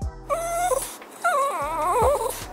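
A dog whimpering outside a shop, close and loud: two high, wavering whines with short breaths between, the second longer and more quavering, no talk.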